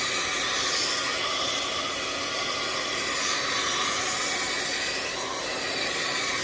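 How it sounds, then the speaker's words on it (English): A hair dryer blowing steadily on a wig to dry lace tint, a constant close whooshing hiss with no pauses and no talk. "just blow dry it for a few minutes"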